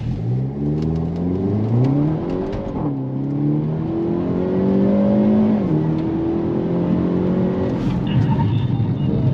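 A Hyundai car, an Ioniq 5, accelerates hard on Sonoma Raceway with a rising whine of motor and tire noise that climbs in several steps, loud and close throughout, with faint voices underneath.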